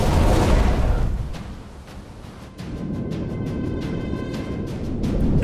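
A deep, booming night-time torpedo explosion at sea rolls into a heavy rumbling roar that dips briefly, then swells again and keeps growling.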